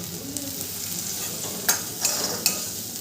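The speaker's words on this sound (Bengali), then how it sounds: "মশলাটাকে খুব ভালো করে আমি কষিয়ে দেবো। এরপরে দিয়ে দেবো কেটে রাখা টমেটোগুলো।" Masala with turmeric and chopped tomatoes stir-fries for a Bengali jackfruit kalia, a steady close sizzle punctuated by three sharp spatula clacks against the pan.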